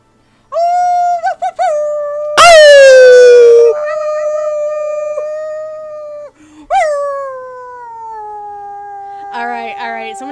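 A dog howls loudly and close, long wavering tonal howls rising and sliding down, with a brief whimpering break and a final trailing howl, heard alone without talk.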